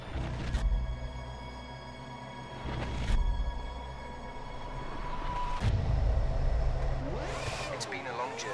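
Formula 1 cars in the F1 2010 video game roar off the line at the Abu Dhabi race start, engines droning steadily with rising revs and gear-change surges, loud and close throughout.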